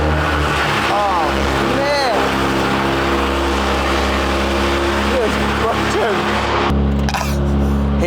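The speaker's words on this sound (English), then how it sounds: "His car is so incredibly loud." A very loud car engine revs in rising, falling sweeps as it pulls away close by, with people talking over the roar until it drops off near the end.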